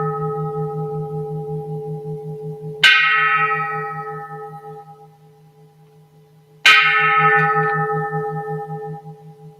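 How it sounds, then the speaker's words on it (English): A bell struck twice a few seconds apart, each ring a sharp bright strike that decays slowly into a sustained, resonant hum under a steady low drone. "Listening to the bell,"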